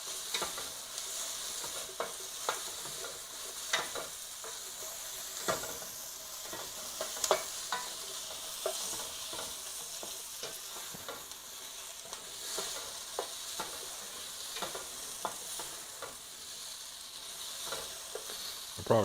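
Meat sears in a hot pan during meal prep, a steady, moderate sizzle with frequent sharp pops and crackles spread throughout.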